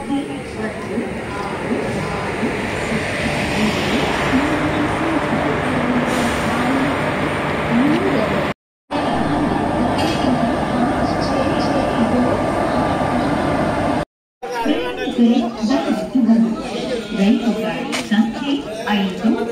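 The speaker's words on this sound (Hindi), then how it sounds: "प्लेटफॉर्म नंबर 2 पे अभी आई है सेम त्रिवेंद्रम से लेके मैंगलोर सेंट्रल आने वाली एर्नाड एक्सप्रेस" Ernad Express, running Trivandrum to Mangalore Central, at a station platform: steady broadband rumble of the train and station bustle, with a voice talking over it throughout and two brief cuts.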